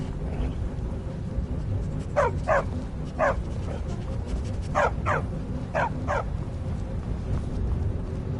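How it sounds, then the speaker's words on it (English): A dog in Skyrim barks in short bursts, two pairs and a few single yips, over a steady low game ambience, with no speech. "Stupid dog."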